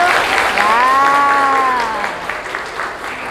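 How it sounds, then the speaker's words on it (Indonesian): A class applauding, with brief clapping heard under a voice speaking. "Kita beri aplaus dulu untuk Fadil."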